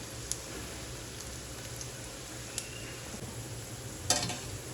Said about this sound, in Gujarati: આપણે એને કાચા જ તળવાના હોય છે, એકદમ આપણે ક્રિસ્પી કરવા માટે